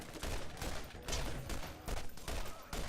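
Pistol gunfire in Borderlands, a rapid string of sharp shots in bursts with brief gaps, loud and close over game background.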